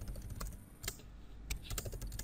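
A few faint, scattered keystrokes on a computer keyboard sound against a low background hum, with no talking.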